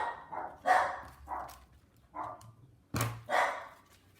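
Several dogs bark in short, loud bursts indoors in a craft setting, with a few sharp yips spaced irregularly and no talking in between.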